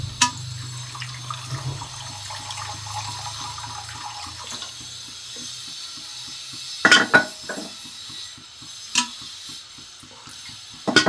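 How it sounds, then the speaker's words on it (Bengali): Water poured into a cooking pot for a vegetarian jackfruit curry, a short splashing pour at the start followed by quieter trickles, faint clinks and a few sharp utensil knocks, with no speech. "এবার এর মধ্যে একটু জল দিয়ে দেবো।"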